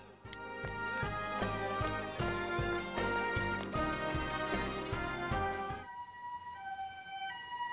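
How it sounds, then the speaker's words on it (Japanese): A loud wailing ambulance siren in the video game Persona 4 Golden cycles steadily for several seconds, then cuts off, leaving soft electronic tones behind. "救急車で運ばれるんだ。"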